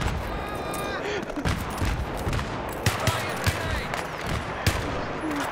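Enemy gunfire in Battlefield 3, with rapid cracking shots and bursts of automatic fire at mid distance, sharp reports punctuating a dense battlefield din throughout.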